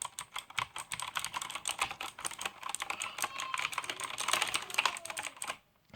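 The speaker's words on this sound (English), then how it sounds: "here is what the blue switches sound like with 1stplayer mechanical keyboards." Fast, continuous typing on a 1stplayer SteamPunk mechanical keyboard with blue switches, close and crisp with sharp clicky keystrokes, stopping abruptly just before the end.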